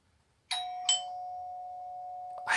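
A doorbell rings indoors: one sharp electronic ding that sustains as a steady tone for about two seconds, with a second strike near its start and another at the end, heard alone in a quiet room.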